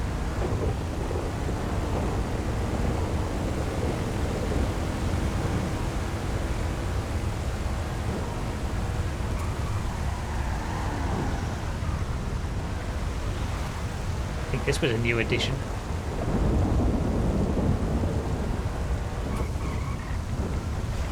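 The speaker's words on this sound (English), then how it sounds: "We've got the thunder, we've got the rain, we've got the cars themselves." Thunder rumbles and rain pours steadily in a thunderstorm in the racing game GTA FiveM, a dense low roar throughout with a sharp crack midway, while someone talks briefly over it.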